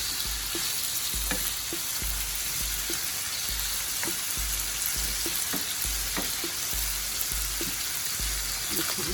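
Pork sautéing in a pan for lo mein, giving a continuous loud sizzle and crackle with repeated light scraping and stirring noises throughout.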